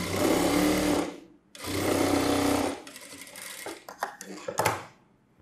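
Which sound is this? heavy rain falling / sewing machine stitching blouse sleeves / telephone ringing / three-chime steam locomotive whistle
sewing machine stitching blouse sleeves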